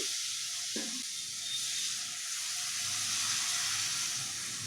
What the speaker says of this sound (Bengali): আর এখানে আমি 1 গ্লাস জল দেব।